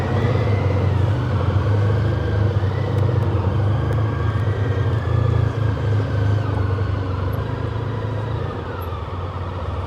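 A motorcycle rolls along at low speed with a steady engine rumble and a few gentle rises and falls in revs as it slows to park, the sound fading slightly toward the end.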